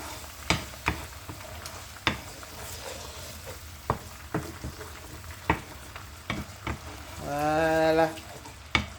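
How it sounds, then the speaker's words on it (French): A stew of ground pumpkin seeds, beef and tomatoes is stirred in a pot as it cooks, with sharp, evenly spaced spoon knocks over a soft simmer and a short bubbling burst near the end. "On mélange, on laisse cuire ensemble."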